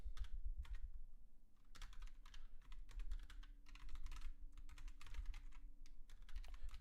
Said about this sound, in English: oh man, I'm typing.